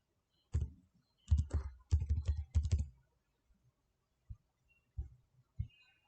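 Bursts of typing on a computer keyboard as a website address is entered, close and fairly loud, in three or four quick clusters followed by a few isolated key taps.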